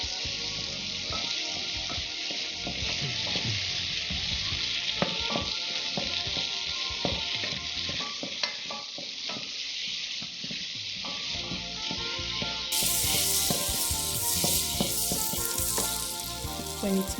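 Butter melts and sizzles in a pan with a steady crackling fry, close and continuous, with small pops and a slight rise in intensity near the end.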